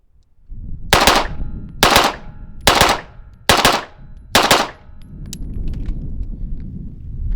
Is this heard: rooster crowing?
no